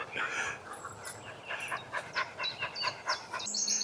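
Springer spaniel on a countryside walk, panting in quick rhythmic puffs with brief whimpers, close but fairly soft, against faint outdoor background.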